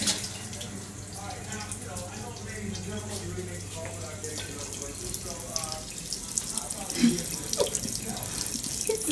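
Water runs steadily from a tap in a broad hiss that holds throughout, with some splashing and brief clatter near the end.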